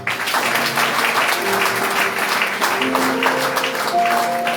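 An evangelical church congregation in Haiti claps together in sustained applause, a dense, loud patter that carries on throughout while sustained musical tones hum underneath.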